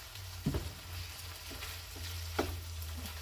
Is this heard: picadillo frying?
yes